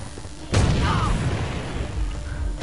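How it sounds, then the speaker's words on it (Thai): Grenade blast in the online shooter AVA: one sudden loud explosion that then trails off into a long, rumbling roar of battle noise. "ปาระเบิดใส่ตัวเองก ัน วะ สนุกสนานเลย"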